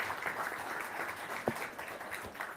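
A modest audience at a launch event applauds in welcome of an invited guest, a faint, steady patter of scattered clapping throughout, heard from a distance.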